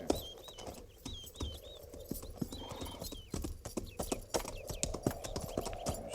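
Horses walking in an old-time Western radio drama set by a creek at Fort Laramie, steady clip-clop hoofbeats close by with an occasional whinny, alongside brief shouted commands and faint outdoor ambience.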